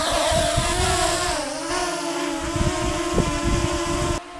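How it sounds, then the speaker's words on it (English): Mavic Air drone hovering in the open air with Master Airscrew Stealth low-noise propellers, a steady whirring buzz with wavering pitch and gusts of wind noise, continuous and fairly loud until it drops away abruptly near the end. "So the drone is in the air at this point."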